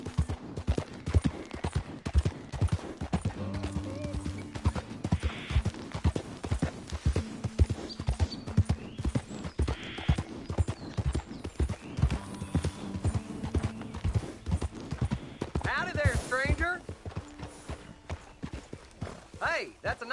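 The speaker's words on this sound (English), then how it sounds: "that's a nice-looking horse you have there" Horse hooves clip-clop steadily in the Red Dead video game, a brisk continuous rhythm of close, crisp hoof strikes lasting the whole stretch, with brief bursts of other game sounds and a whinny near the end.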